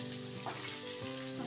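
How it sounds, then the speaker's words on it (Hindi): Large onions fry in a pan for stuffed eggplant, with a steady, faint sizzle and a soft stirring scrape. "5 मिनट तक हम इसको फ्राई कर लेंगे प्याज को"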